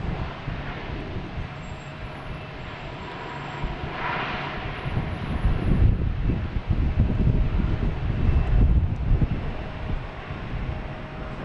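An airliner arriving from Phoenix lands on runway 4 left at Boston Logan Airport, a broad engine roar that builds and swells as it passes overhead amid wind buffeting on the microphone, with no talk.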